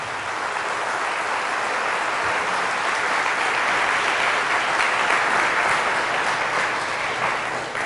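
Loud, sustained applause from a church congregation fills the whole stretch, a steady dense clatter of many hands with no pauses and no talk over it.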